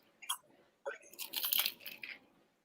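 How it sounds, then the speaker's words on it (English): A crunchy bite into a sandwich of beet, hummus, greens and cucumber on toasted bread: a short crisp crackle, then a denser burst of close crunching and chewing that fades after about two seconds. "That crunch is insane."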